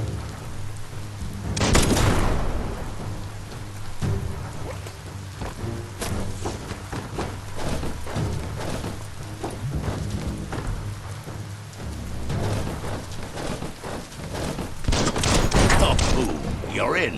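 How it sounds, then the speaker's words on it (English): An explosive object shot and blowing up in Biomutant, two loud blasts near the start and end with a rumbling, crackling stretch of debris and impacts between them. "Shoot it and watch it blow."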